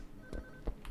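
Telephone keypad tones from a phone being dialed in a horror video game, two or three brief tones sounding at moderate level over a dim room ambience, with no voices.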